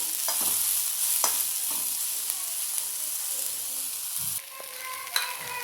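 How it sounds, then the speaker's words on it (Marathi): Ingredients roast in a little oil in a pan, giving a continuous close sizzle broken by occasional scrapes and taps of a spoon being stirred, with no one talking. "आता ह्याच्यामध्ये मी थोडंसं तेल घालून घेते आता हे आपण दहा फळेपर्यंत भाजून घ्यायचं असं हलवत राहायचं"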